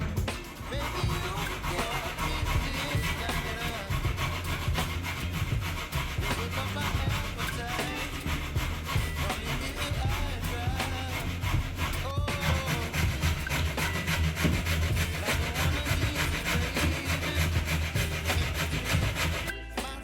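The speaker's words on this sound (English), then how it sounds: "we're going to grate the cassava" Cassava being grated by hand on a small grater for Jamaican-style dumplings, a steady rhythmic rasping scrape that continues loud and close throughout with no talking.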